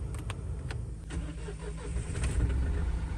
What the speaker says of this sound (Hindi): सिंगल क्रैंक स्टार्ट भाई।